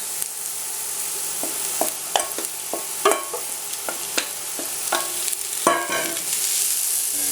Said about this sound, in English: We're going to add our carrot and celery that we grated before.